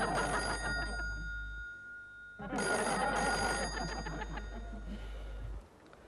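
An old telephone bell rings in bursts with a pause between them during a call to a police station, the ringing bright and sustained over a low background hum, with no talking.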